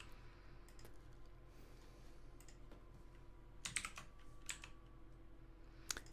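Ctrl+L pressed on a computer keyboard during work in Blender, heard as a few faint, close key clicks scattered over a low steady room hum, with no one talking.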